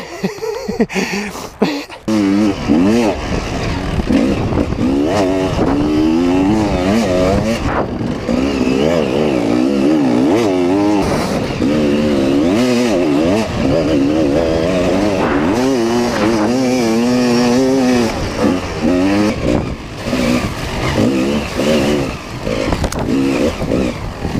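An enduro motorcycle engine revs hard and repeatedly, rising and falling in pitch, loud and close, with sharp throttle blips and no talking.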